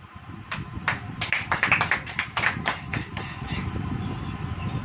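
A church congregation clapping hands, a ragged burst of sharp claps that builds, peaks and trails off over a few seconds, with voices murmuring underneath.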